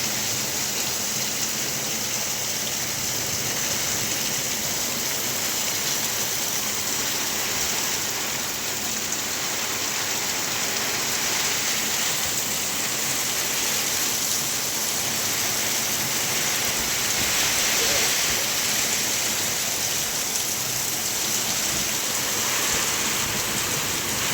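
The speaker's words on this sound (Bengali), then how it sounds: "প্রচুর ঝড় হচ্ছে, প্রচুর বৃষ্টি, গলগল করে বৃষ্টি হতে আছে" Heavy storm rain pours steadily and loudly, a dense unbroken roar of water on surfaces with wind, continuing without pause and with no voices.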